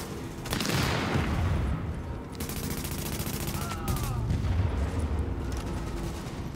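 Sustained automatic gunfire from a co-op firefight at a power plant in Tom Clancy's The Division, loud, dense bursts with booming impacts rolling on for several seconds.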